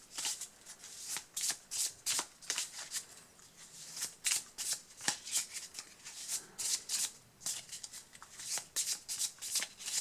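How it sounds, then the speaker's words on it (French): A deck of cards for the Aliens Bug Hunt board game is shuffled by hand, a long series of crisp riffling bursts in an irregular rhythm, close and clear, with no speech. "tout simplement, on remélange le deck"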